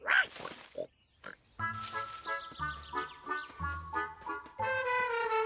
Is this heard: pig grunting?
yes